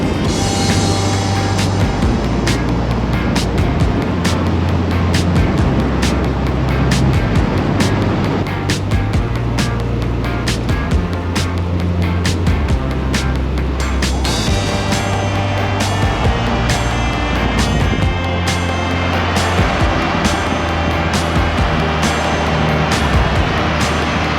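A Nissan Pathfinder 4x4 with a swapped KA24 engine drives along with a loud, steady engine drone and road rumble, heard from inside the cabin and without talk.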